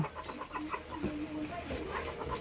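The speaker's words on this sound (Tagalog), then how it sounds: "Bugaw na manok, Loy." Chickens cluck in short bursts nearby, with a busy background that may include voices.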